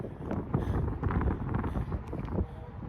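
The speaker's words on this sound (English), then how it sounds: "you're going to have some concern with this wind when it's windy out" Wind buffets and rumbles across the microphone in gusty, continuous waves, loud and close, with no voices.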